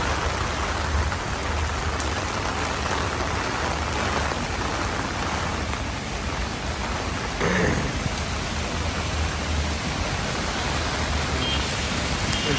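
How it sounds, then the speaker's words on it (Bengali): Heavy rain pours steadily on a rooftop garden for a long stretch, a dense constant roar with a brief louder surge midway and no voices. "আজকে সারাদিনই বৃষ্টি"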